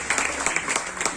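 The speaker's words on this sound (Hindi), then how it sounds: "तालियां बजती रहें" An audience claps at a retirement farewell in a government office in Bhopal, a short burst of steady, moderately loud applause from a small crowd.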